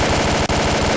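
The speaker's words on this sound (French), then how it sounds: "Ça tire au moins une ou deux balles ou trois balles." Rapid automatic gunfire in S.T.A.L.K.E.R. Clear Sky, a loud, close, evenly paced stream of shots with one brief gap.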